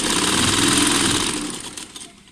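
A sewing machine stitching along an existing seam of a jacket, a loud rapid mechanical whir and clatter that runs steadily, then slows and trails off.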